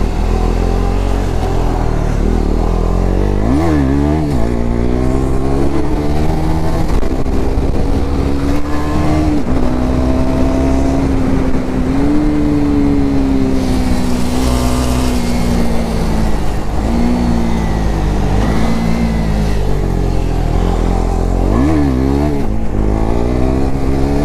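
A 250cc motorcycle engine drones loud and close, rising and falling in pitch as it revs and rides past, with no voices over it.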